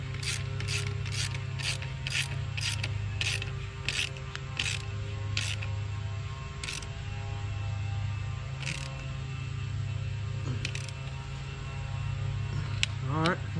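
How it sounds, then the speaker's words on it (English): A 12 mm wrench ratcheting to tighten a bolt on a 2020 Honda Grom, with rapid regular clicks at first, then slower spaced clicks over a constant low hum, close up. "just take a 12-inch wrench, or 12 millimeter wrench, put it on the back side"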